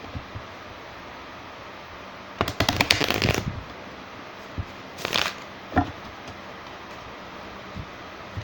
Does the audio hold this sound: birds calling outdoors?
no